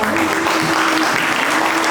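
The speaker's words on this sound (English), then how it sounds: "Please give a big round of applause." A crowd gives a big round of applause at a Kathak dance show in Dubai, the clapping dense and loud from start to finish with a faint tonal hum beneath it.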